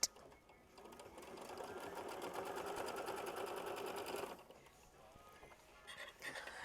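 A sewing machine runs a continuous stitching burst of about four seconds along the side of a quilt block, with a rapid mechanical rattle, then stops; quiet and close.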